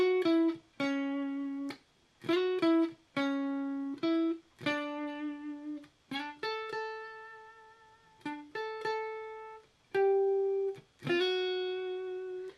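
An electric guitar plays a clean melody of sustained notes with gliding slides between pitches and gentle vibrato, pausing briefly between phrases, no voices.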